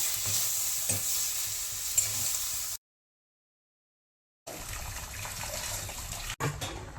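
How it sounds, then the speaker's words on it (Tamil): Tomatoes and onions sizzling and frying in a pan with occasional stirring, cut by a brief silence, then the sizzle resumes. "சீக்கிரம் வதங்கிடும் தக்காளியும் வெங்காயமும்"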